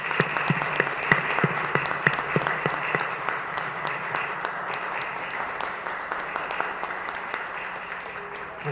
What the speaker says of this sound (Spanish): vamos a darle un aplauso a Natalia.